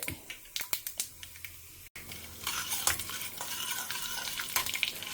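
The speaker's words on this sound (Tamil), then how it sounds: "எண்ணெய் வச்சுருக்கேன் பேசிக்கான தாளிப்புகள் தான் கடுகு உளுத்தம்பருப்பு கடலப்பருப்பு போட்டுன்றலாம்" Mustard seeds, urad dal and chana dal are tempered in hot oil for a hotel-style kara kuzhambu: a few sharp utensil clinks first, then a sudden, sustained crackling sizzle that stays fairly loud.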